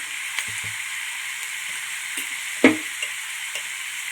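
Spices, chili powder, coriander powder and homemade garam masala fry in a pan with a soft, constant sizzle. Faint scrapes of stirring and one sharper clack sound close by, with no talk.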